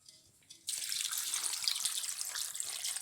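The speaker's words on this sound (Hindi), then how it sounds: "तो अब इसमें थोड़ा सा पानी ऐड करने लगी हूँ।" Water splashes steadily into a pot of zucchini and mutton curry cooking in oil. After a brief quiet start, a loud continuous pour runs to the end.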